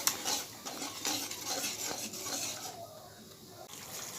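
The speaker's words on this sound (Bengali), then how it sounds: "দেখুন মশলা কষানো হচ্ছে" Spices and tomato sauce are stirred and sautéed in a pan for a potato and pointed gourd curry, with a spatula scraping rhythmically over a steady close sizzle that eases slightly near the end.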